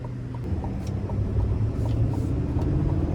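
A 2025 GMC Sierra 2500HD Denali Ultimate heavy-duty pickup with a Duramax turbo diesel and Allison transmission, heard from inside while driving as a steady, dense low rumble that swells slightly.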